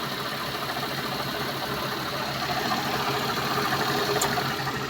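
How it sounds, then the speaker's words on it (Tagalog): Suzuki Multicab DA64/DA17 engine idles in a steady, even drone at close range, with a faint brief click near the end and no talking. "So tahimik na yung makina."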